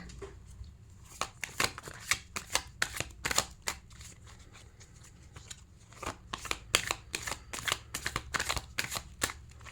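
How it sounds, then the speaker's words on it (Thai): Tarot cards are shuffled close by in quick, crisp riffling bursts, a dense flurry of snaps and flutters with short pauses, with no talking. "ให้เปิดไพ่ยิปซีไปในทิศทางที่ถูกต้องแม่นยำนะคะ"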